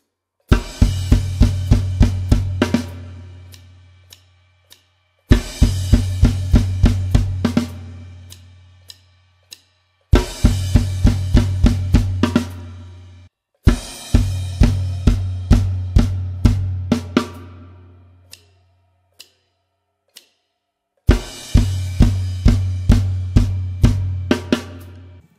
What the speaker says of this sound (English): just using the floor tom, snare drum, bass drum, and going one and two and three and four and on the snare on the ender